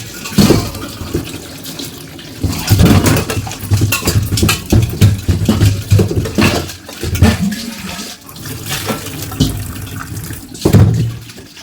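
Water runs from a tap into a metal pot being filled for a Varalakshmi puja at home, a steady rushing gush that rises and falls in surges, close and loud, with no talk.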